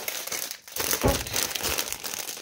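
Small packages of reborn doll clothing are unwrapped, their plastic and paper wrapping crinkling and rustling loudly up close, with one sharp crumple and no voices.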